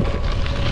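Loud, steady wind buffets the microphone while riding a Genesis Croix De Fer gravel bike, a dense roaring rush with no talk.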